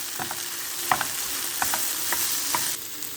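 Cumin and curry powder are stirred into a chicken and mushroom sauté in a pan. A few short scraping strokes cut through a steady frying sizzle, close by, with no talking.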